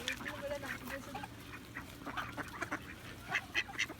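Ducks at a temple pond being fed, giving a scatter of short nasal quacks and bird calls in bursts, strongest toward the end, over a low murmur of background voices.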